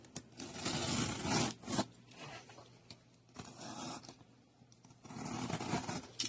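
Product packaging for a vibration plate exercise machine is cut open with a blade, giving close, rasping scrapes and slicing strokes in bursts separated by short pauses.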